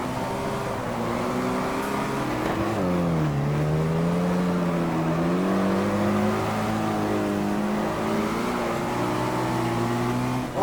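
A racing video game car drives with a steady engine drone that rises and falls in pitch as it revs and shifts, continuous and fairly loud throughout with no talking.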